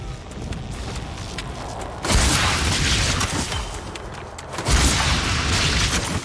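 Explosions in the Warframe video game, two loud, broad rumbling bursts with debris-like crackle at about two seconds and again near four and a half seconds, over a steady mechanical game background.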